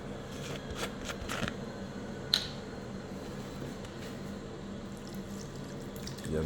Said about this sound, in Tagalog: Lagyan ko ng suka para medyo asim-asim.